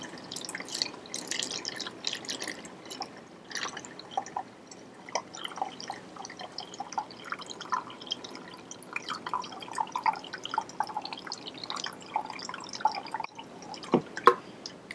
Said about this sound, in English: You can hear the water running into the balloon.